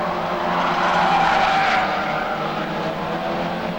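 Race cars lap an oval short track at Arena Essex, a loud continuous engine roar with tire skidding throughout, a broad sustained rumble of several cars passing close.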